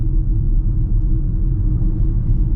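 Low, steady whir from a Ford Mustang Mach-E electric car's propulsion sound, a soft continuous rumble heard alone with no talk.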